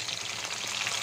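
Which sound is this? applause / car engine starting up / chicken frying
chicken frying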